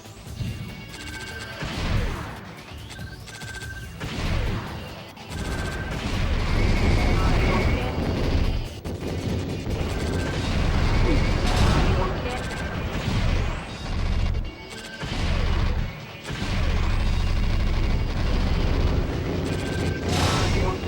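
Video game explosions and blasts from the PlayStation shooter Omega Boost, loud and dense, with repeated crashes and booming impacts over continuous action noise and music, while a voice talks over parts of it.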